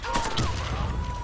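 Rapid gunfire crackles through an online team shooter match, a dense burst of overlapping shots filling the brief moment at steady loudness.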